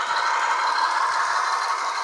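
A steady, whirring mechanical hum with a light rattle runs unbroken throughout, like a small motor running close by: an N scale model train locomotive on a Christmas layout.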